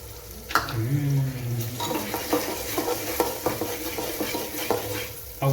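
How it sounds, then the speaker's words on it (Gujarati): Masala being stirred into sweet corn pulao with onion and tomato in a pan, a low sizzle under repeated spoon scrapes and clinks against the metal, close up, with a faint voice at the start. "બરાબર મિક્સ કરી દે મસાલો."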